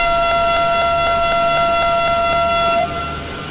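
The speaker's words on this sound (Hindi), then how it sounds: "चलो यार हॉर्न तो काफी अच्छी तरीके से बज चुका है हमारा" A locomotive horn on an Indian express train sounds one long, loud, sustained tonal blast that fills nearly the whole clip, then cuts off sharply, leaving only low rumble of the rail engine.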